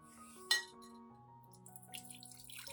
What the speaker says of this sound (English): I will strain out all the peels, keeping only the liquid extract for use.